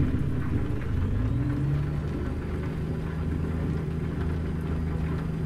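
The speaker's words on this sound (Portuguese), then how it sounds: "Caindo bastante raio aqui na Alemanha." Heavy rain and low rumbling thunder in the truck-driving game Euro Truck Simulator 2, set on a German road, with a steady downpour hiss over a droning truck engine, continuous and without talk.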